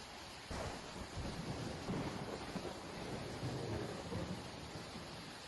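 A severe July hailstorm in Italy pounds parked cars and rooftops, a dense steady roar of hail and rain with low thunder rumbling under it, loud and continuous throughout.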